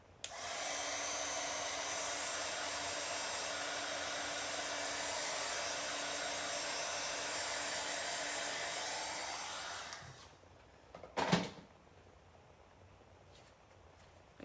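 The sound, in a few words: drying with a dryer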